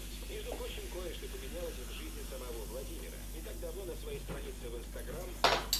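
A soft, steady fizzing hiss of baking soda bubbling in water runs under a person talking, with a brief clink near the end.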